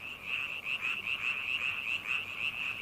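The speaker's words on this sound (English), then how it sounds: "The largest males have the loudest croaks, and they have the best chance of mating." Frogs croak in a swampy Ussuriland forest, a dense chorus of rapid, rhythmic pulsing calls overlapping continuously and fairly loud, with no voices.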